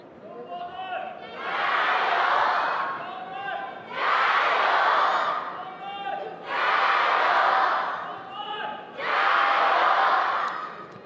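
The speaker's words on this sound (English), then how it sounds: "Crowd going mad here. Big support and cheers." Home crowd at a women's doubles table tennis final in Taiyuan roaring in four long, loud surges of cheering and shouting, each swelling and fading with short lulls between.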